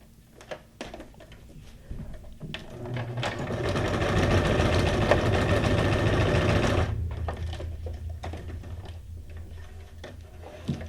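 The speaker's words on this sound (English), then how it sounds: "I'm going to do a straight stitch across the top to keep them together." A sewing machine runs a straight stitch across paper ephemera for a junk journal, a steady loud whirring burst of about four seconds after scattered handling clicks and taps, then quieter rustling.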